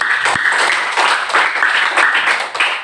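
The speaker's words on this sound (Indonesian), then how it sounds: "Iya, tepuk tangan." Schoolchildren in a classroom clap together in quick rhythmic bursts, fairly loud and close, with no speech over it.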